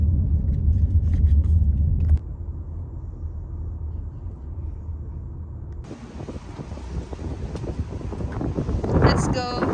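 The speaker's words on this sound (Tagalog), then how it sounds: "it's so windy" Strong wind blows outdoors in Australia, buffeting the microphone with heavy low rumble, a passing car audible early on, and a brighter gusty roar in the last few seconds; people speak over it.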